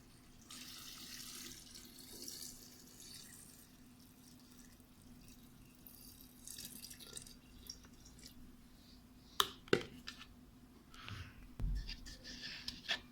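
About 2.25 kg of water is poured into a jar for homemade date vinegar, a faint, steady trickle followed by a few soft knocks and splashes near the end.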